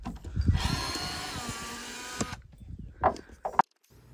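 Power drill unscrewing screws from the blocking under a remote off-grid cabin in Alaska, a short whining buzz close by for about two seconds, then silence broken by two brief clunks.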